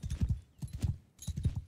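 Horse hooves clip-clop in the video game Mount & Blade II: Bannerlord, three steady bursts of rhythmic hoofbeats at a trot, close and clear, with no speech over them.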